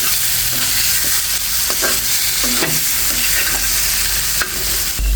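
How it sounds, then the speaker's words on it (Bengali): Pumpkin with coriander leaves and green chili stirred and frying in a pan, a loud continuous sizzle with repeated scraping strokes of a spatula throughout. "নেড়ে ছেড়ে কিন্তু ধনেপাতা কাঁচামরিচ দিয়ে একদম ভেজে নিলাম।"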